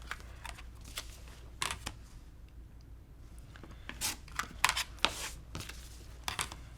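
Quilt fabric sliced across during a Flea Market quilt block made from Triangles on a Roll, a series of soft crisp cutting and rustling snips, irregular and close, over quiet room noise.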